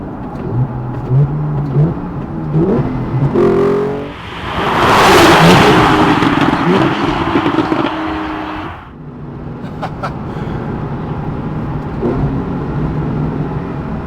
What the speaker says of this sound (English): Sport Plus mode is active, and let's downshift to 2nd gear.